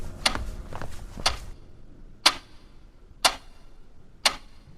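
Clock ticking as a sound effect in a Hindi horror story: crisp, evenly spaced ticks about one second apart, close and isolated against a quiet background.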